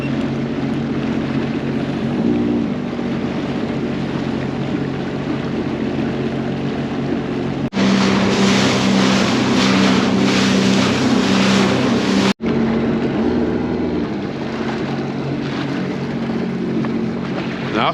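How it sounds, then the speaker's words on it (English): Sea-Doo personal watercraft running over choppy water, a loud continuous engine roar mixed with wind and water rush, growing harsher and louder for several seconds in the middle before easing back. "I'm gonna get back on the Sea-Doo and head out over there"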